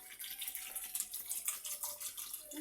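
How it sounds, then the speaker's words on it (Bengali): Water runs into a cooking pot of turmeric-and-salted food in a home kitchen, a thin, steady trickling splash with faint gurgles, continuous and close. "একটা অল্প পরিমাণ পানি দেব, যেটাতে সিদ্ধ হয়ে যায়"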